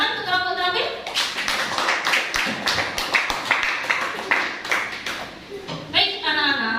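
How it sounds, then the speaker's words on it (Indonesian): A small group in a classroom claps in brisk, uneven bursts for several seconds. A teacher's voice comes in at the start and end. "Tepuk tangan untuk kelompok terampil."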